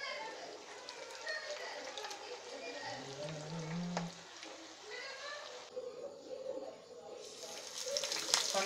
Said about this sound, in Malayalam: ഇനി നമുക്ക് ബാക്കിയുള്ളതും ഇതുപോലെ ഫ്രൈ ചെയ്തെടുക്കാം